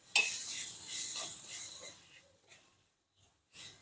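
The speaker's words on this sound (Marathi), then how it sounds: "मंद गॅसवर मेथीची चटणी 1 मिनिटापर्यंत परतून घ्यायची" Fenugreek leaf chutney with crushed peanuts being stirred and sautéed in a pan over low heat, soft scraping and faint sizzle in short bursts, fading to near quiet before a last stir.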